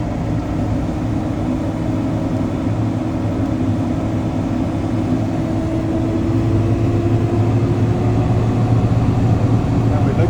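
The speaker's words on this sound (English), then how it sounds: "On this time, we're gonna go ahead and step on the gas. Keep it to 1500." Idling engine rising to a held 1500 RPM as the gas pedal is pressed, a loud, steady low drone with a faint rising tone, continuous over about ten seconds.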